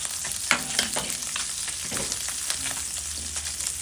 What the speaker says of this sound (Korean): 김치를 먼저 볶네요